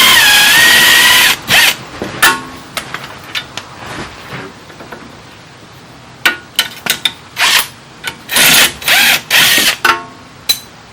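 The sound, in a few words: impact gun removing bolt on Mitsubishi Outlander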